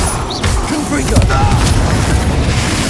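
The Confringo fire spell explodes in the Hogwarts Legacy video game, a loud, dense, sustained blast with rumbling debris filling the whole moment.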